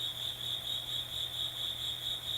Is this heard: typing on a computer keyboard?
no